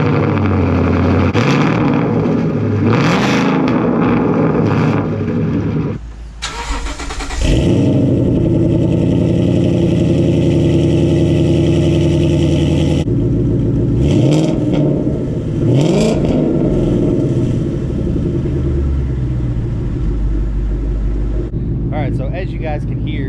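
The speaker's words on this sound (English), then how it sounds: "So here's gonna be the first cold start you guys are gonna hear" Ford Mustang GT with a Coyote V8 and GT500 mufflers cold-starting: a cranking burst, then a loud, deep rumbling idle with rising revs, steady and close throughout, with speech faintly present.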